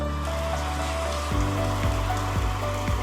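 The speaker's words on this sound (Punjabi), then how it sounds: "ਮਤਲਬ ਠੰਡ ਦੇ ਮੌਸਮ ਹੋਣ ਤੋਂ ਪਹਿਲਾਂ ਇੰਨਾ ਸਾਰਾ ਮੀਂਹ" Heavy rain pours down on a village in a steady, dense wash that runs unbroken through the whole stretch. A few low thuds and tones come and go beneath it, and no one speaks.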